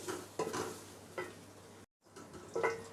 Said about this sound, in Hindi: और प्याज हमने डाल के अब इसको हल्का सा फ्राई करना है